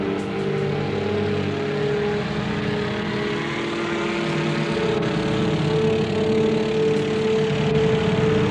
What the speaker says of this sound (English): there's a helicopter flying above